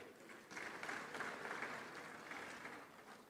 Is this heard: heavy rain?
no